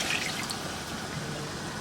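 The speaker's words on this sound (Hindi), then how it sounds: "उसके बाद यहाँ पर आप ला करके ऐड करेंगे जो कि पानी है।" Water poured into a pan of chicken korma masala, giving a steady, soft hissing rush of liquid throughout the short moment, faint and close, with no talking.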